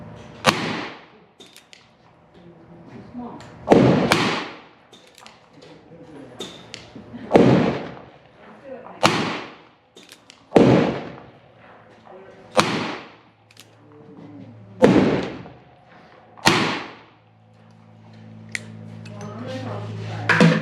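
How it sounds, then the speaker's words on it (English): Shots are fired at a range target using Ideal 358-425 cast wadcutter bullets: about eight sharp, loud reports spaced a second or two apart, each with a short ringing decay. "Can I take her to this table real quick so I can shoot that target?"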